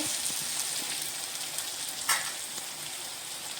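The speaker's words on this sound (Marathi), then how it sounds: "टोमॅटो हे आपण चांगला भाजून घेऊया" Chopped tomatoes roasting in a pan for dry bombil (Bombay duck) masala, a soft continuous sizzle with one short stirring scrape midway, no talking.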